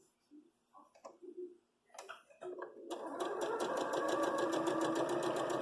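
A sewing machine stitches quilt fabric, starting after a few soft handling sounds and then running in a steady, rapid ticking chug, close and continuous to the end.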